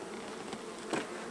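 Honeybees in an open beehive during an inspection hum in a dense, steady buzz close by, with a couple of brief louder passes.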